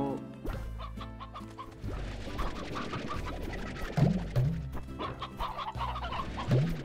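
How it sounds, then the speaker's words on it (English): Chickens in Slime Rancher cluck steadily in a busy chorus, with a few low throaty calls rising above the continuous clucking and scratching. "Do I need to feed the chicken?"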